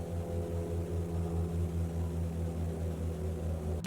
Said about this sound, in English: Why is there a helicopter outside?